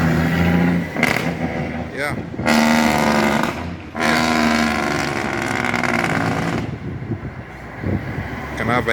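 A truck engine with a Cummins N14-like tone roars and revs on a Jamaican highway, loud and close with rising and falling pulls and brief drops in level, while people talk over it.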